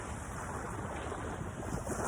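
Ocean waves and wind at Crissy Field Beach near the Golden Gate Bridge in San Francisco make a constant, dense roar of surf and gusts buffeting the microphone, loud and unbroken with no talking.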